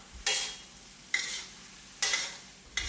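Seafood stir-fried with curry powder and celery in a pan over high heat, with four loud bursts of sizzling as the ingredients are tossed, evenly spaced, with quieter frying hiss between them and no talking.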